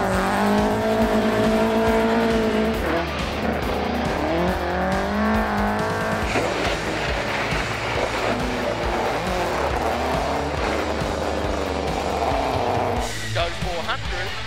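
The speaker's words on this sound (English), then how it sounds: "We're here and we're just driving and navigating like we're here rallying." Rally car driven hard at speed, its engine roaring loud and continuously with rising and falling revs and some tire noise, while a co-driver's voice calls out over it.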